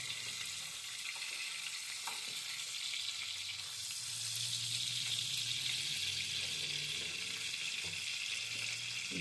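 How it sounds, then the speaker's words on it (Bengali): Fish sizzles and fries in a pan, a steady crackling hiss that swells a little louder partway through, with faint clinks and no talking. "মাছ আমার ভাজা হয়ে গেছে"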